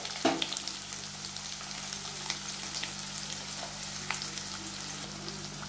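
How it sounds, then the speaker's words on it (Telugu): Onions frying in hot oil in a pan with curry leaves for an egg curry, a steady soft sizzle throughout with a brief louder crackle near the start as they go in. "కరివేపాకు కూడా వేగిపోయింది. ఇప్పుడు నేను కరిగిన ఉల్లిపాయలు వేస్తున్నాను."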